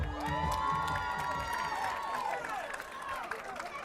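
A crowd at a Q Bowl game cheers and shouts in a sustained, lively roar heard from some distance, with a few claps and whistles mixed in, easing off toward the end.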